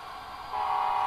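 A Union Pacific SD70ACe model locomotive sounds its horn through a Tsunami sound decoder on a model train layout. The steady mid-pitched horn tone swells louder halfway through and holds to the end.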